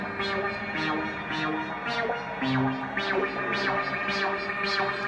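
A Eurorack Clouds module holds a frozen, smeared synth texture while an in-sync LFO sweeps the filter cutoff, producing rhythmic rising and falling swooshes about twice per second, steady and moderately loud with no talking.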